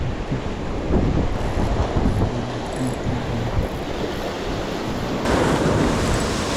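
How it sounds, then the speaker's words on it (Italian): Steady wash of sea waves and surf with wind buffeting the microphone, a continuous broad roar that swells slightly near the end. "onda al minimo accettabile, che dovrebbe aumentare però"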